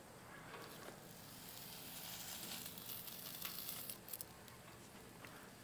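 Store-bought bacon sizzles in a pan on a stovetop burner set to medium, giving a steady soft crackle with occasional louder pops near the end.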